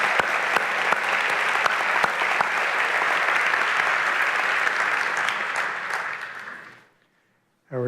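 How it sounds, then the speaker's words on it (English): Audience applause at a high school senior awards ceremony, a dense, loud wash of many hands clapping that holds steady, then fades and cuts to near silence before a brief voice starts at the end. "Let's give them another round of applause."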